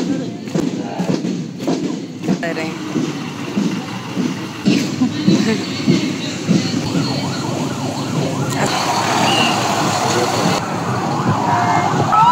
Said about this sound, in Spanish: mira las patrullas estas, qué chilas